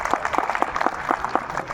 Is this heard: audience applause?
yes